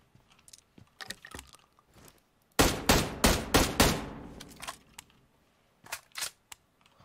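M4 rifle fire in PUBG Mobile: a loud, close burst of about five rapid sharp shots in the middle, with fainter scattered clicks and a couple of distant pops before and after.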